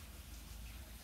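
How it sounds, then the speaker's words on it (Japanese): Steady running water from a tap while someone cooks, faint and continuous with a soft, even hiss and no voices. "水の音が聞こえる"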